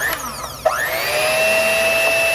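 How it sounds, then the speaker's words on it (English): An electric mixer whips cream for a no-bake s'mores cheesecake filling. The motor whines as it spins up, then settles into a loud, steady high-pitched hum close by. "Get back on the mixer so you get some peaks going"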